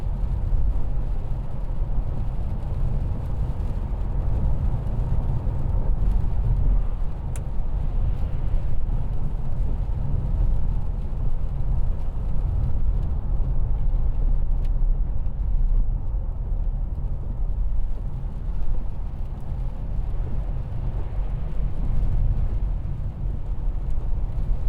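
A steady, loud low rumble inside a 2016 Mercedes-Benz E220 driving on a wet road, with engine and tyre noise droning evenly throughout and no talking.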